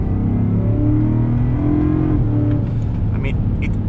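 Supercharged V8 in a Land Rover Defender 90 pulling under throttle, a loud steady engine drone heard from inside the cabin, the pitch rising then dropping at a shift.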